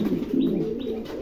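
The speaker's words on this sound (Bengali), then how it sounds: "খুবই চমৎকার এক জোড়া কবুতর" A pair of German Beauty pigeons coo in low, rolling, continuous tones, close and fairly loud, with no voices over them.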